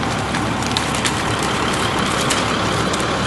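A heavy septic truck engine rumbles steadily nearby, a constant low drone with broadband noise and no pauses.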